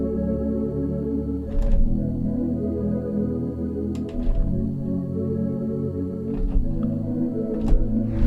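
A warm, sustained Epiton synth pad from the Harmonic 2 plugin holds rich layered tones. A few soft breathy swells rise over the steady chord, with no voices.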